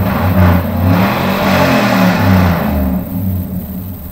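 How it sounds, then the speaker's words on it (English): A nearby vehicle engine revs up, its low rumble swelling and dropping a couple of times before easing off. "I hate when I'm recording and somebody revs their motor up over here behind us."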